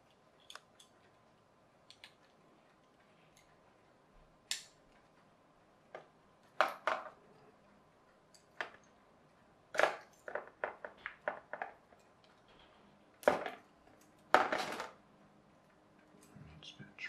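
Trimming plastic parts from a 6-in-1 solar car kit, sharp snips and clicks of a cutting tool, scattered and then in quick clusters, close and fairly quiet against a silent background.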